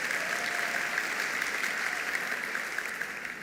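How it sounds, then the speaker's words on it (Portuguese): A church congregation gives a sustained round of applause during a sermon, a thick even wash of many hands clapping that stays steady and fairly loud before tapering slightly toward the end. "pode dar uma salva de palmas"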